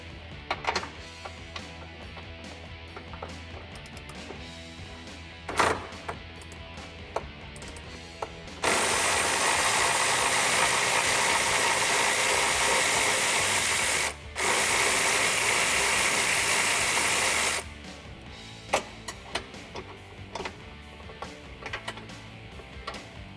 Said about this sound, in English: I'm going to use a 16mm ratcheting wrench for the top one and continue to use my 16mm socket for the bottom one.